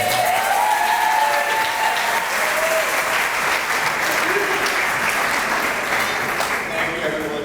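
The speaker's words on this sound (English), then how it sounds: "let's hear it for Brian over here" A wedding crowd applauding the best man with steady, loud clapping that fills the whole stretch and tapers slightly near the end, with a few voices and cheers mixed in.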